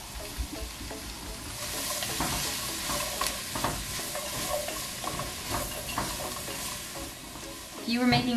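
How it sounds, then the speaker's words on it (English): Onions sizzle and hiss in butter in a pan over medium-high heat while being stirred, with scraping and clattering of a utensil over the steady frying noise. "right when you're frying the onions and the butter"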